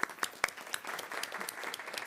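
An audience at a school board meeting breaks into applause: a quiet patter of scattered hand claps with a few sharper individual claps, heard from some distance.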